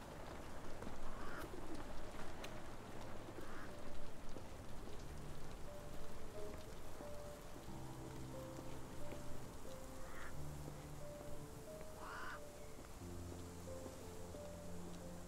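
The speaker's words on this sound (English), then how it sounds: "This dreary rain is making a miserable day even worse." Steady rain patters through a game scene in Sherlock Holmes: The Awakened, a constant soft hiss with a few faint bird calls and low musical tones underneath.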